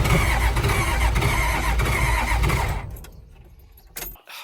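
A Toyota Land Cruiser HJ47 engine cranks steadily and loudly for under three seconds without catching, then falls quiet apart from a brief mechanical clunk near the end.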